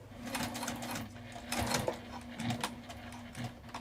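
A sewing machine stitches through the lining and top fabric of a wristlet in a steady, fast mechanical whir, with its rhythm shifting slightly as it runs. The sound is close and continuous.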